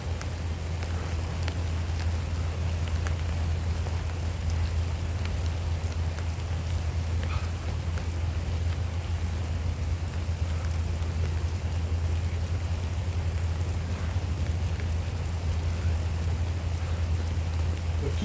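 Steady rain falling outdoors during an open-air workout, a continuous dense hiss with a constant low rumble and no pauses, and no voices.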